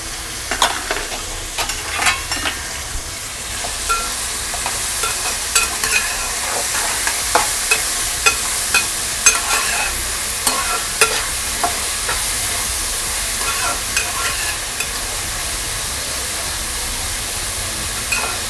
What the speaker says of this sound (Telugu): ఉల్లిపాయలని పచ్చిమిరపకాయలని వేసుకుందాం. ఉల్లిపాయలు మగ్గడానికి సాల్ట్ వేసుకుందాం.